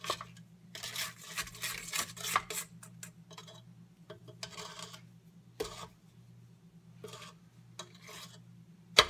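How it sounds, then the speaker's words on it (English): A spatula scrapes down the sides of a mixing bowl of oatmeal raisin cookie dough in short, faint rasping strokes with pauses, over a steady low appliance hum. "now I'm just going to quickly scrape down"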